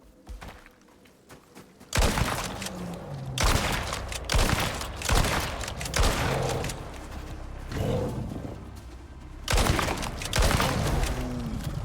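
Rapid bursts of gunfire tear into a polar bear in the survival game Icarus, loud and dense from about two seconds on, with the animal's roars tangled among the repeated volleys of shots.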